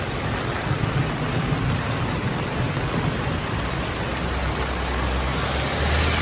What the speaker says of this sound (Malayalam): കഞ്ഞി കുടിച്ച് കഴിഞ്ഞ് നല്ല മഴയാണ്